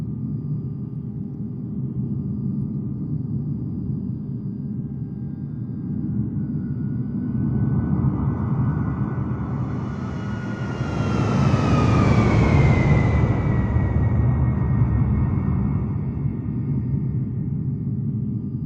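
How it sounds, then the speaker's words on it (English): Military jets taking off in Microsoft Flight Simulator 2020 give a steady engine rumble that swells into a loud roar with a rising whine. The roar peaks and holds for several seconds, then fades slightly. No one speaks. "Watch this takeoff."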